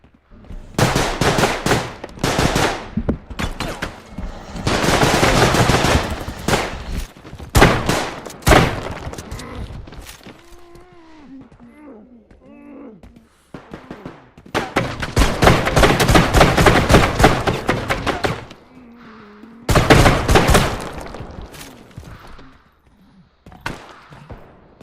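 Rapid bursts of video game gunfire in a shooter's gun game mode, where the weapon changes with every kill, come in loud volleys of automatic fire and single shots with brief quieter gaps between them.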